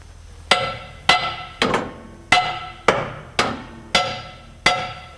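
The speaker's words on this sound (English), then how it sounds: "So you just start whacking the drum." A seized, frozen truck brake drum being struck with a hammer: eight loud metallic whacks in a steady rhythm, each ringing briefly before the next, close by with no talking.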